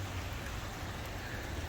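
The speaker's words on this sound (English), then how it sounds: "Wet and rainy day." Steady rain falling on a wet day, an even hiss of drops on surfaces with no voices.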